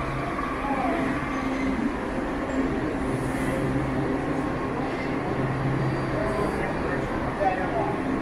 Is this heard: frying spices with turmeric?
no